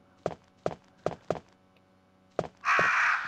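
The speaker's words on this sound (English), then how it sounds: "I hope those crows fuck off because..." Crows caw in the video game Resident Evil, six sharp harsh caws in an uneven series, followed by a sudden loud burst of noise.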